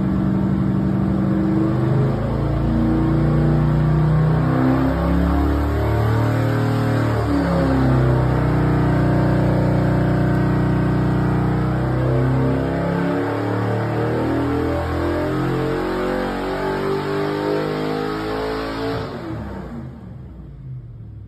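A loud rebuilt high-revving engine on a dynamometer revs steadily and climbs through its range for a long stretch, the roar sustained and near, then cuts off abruptly at the end.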